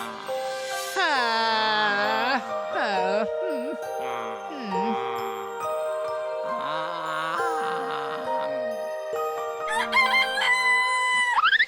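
A cartoon rooster gives a loud, drawn-out cock-a-doodle-doo in several rising and falling bursts, set over steady background music.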